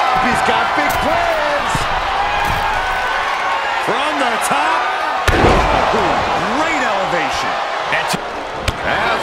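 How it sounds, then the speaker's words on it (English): Body slams and impacts from a Hell in a Cell match between Braun Strowman and AJ Styles in WWE 2K23, repeated thuds and slaps beneath constant arena crowd noise and continuous commentary. "They're slamming their face down."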